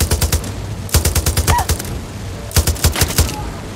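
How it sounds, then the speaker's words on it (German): Rapid bursts of automatic gunfire in the shooter game Far Cry 6, loud and close, coming in three rattling volleys separated by short pauses, with no voices over them. "irgendwer ballert mit Granaten"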